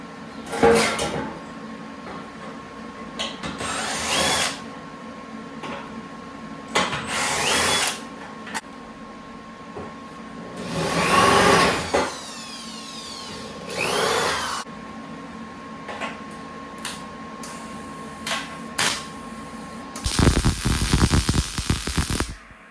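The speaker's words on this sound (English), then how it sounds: "Welding this together and welding the trunk drop off on." Welding of body panels and the trunk drop-off on a Firebird or Camaro body: repeated short bursts of harsh crackling hiss separated by pauses, ending in a longer, louder, denser burst.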